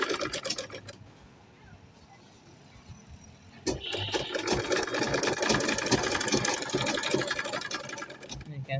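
A sewing machine stitches a shirt dress seam, its motor running in a steady whirring burst that starts abruptly partway through after a quieter stretch, close and continuous to the end.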